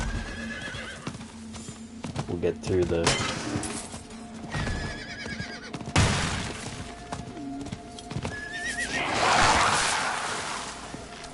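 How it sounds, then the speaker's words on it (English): A horse in the video game Diablo IV whinnies and its hooves clip-clop amid game effects and a brief crash, while someone talks over it. "Now that we have a horse and stuff."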